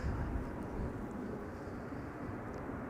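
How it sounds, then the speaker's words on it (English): A fixed-wing airliner passes overhead at Amsterdam Schiphol Airport, a steady, faint engine roar that drifts slowly and stays constant, with no voices. "And I can hear another airplane that just now passed me by overhead"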